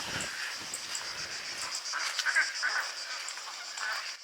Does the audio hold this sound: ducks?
yes